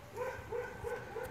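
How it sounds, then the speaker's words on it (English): Dogs barking in the morning at a home where birds are kept, several short repeated barks and yips at a distance, fairly faint and rhythmic. "You can hear the dogs barking"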